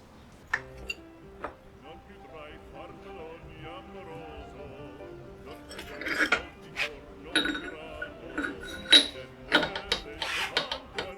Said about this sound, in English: Insert the first gear in the right position.